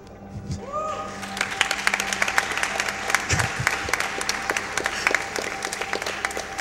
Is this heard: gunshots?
no